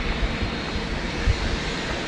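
A T-Way Air jet from Seoul lands on runway 16 right at Sydney Airport in heavy rain, a steady, broad engine roar close by, with a brief low thump partway through.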